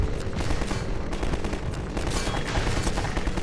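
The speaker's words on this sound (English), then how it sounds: "People are shooting me from over there." Enemy gunfire in the shooter game Half-Life 2: dense, continuous bursts of rapid shots crackling one after another for the whole stretch, loud and close with no talk over it.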